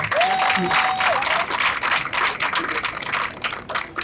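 An audience at a fashion show in the African pavilion at the Cannes festival applauds and cheers loudly. Dense clapping from a crowd fills the room, and a brief whistle rings out near the start.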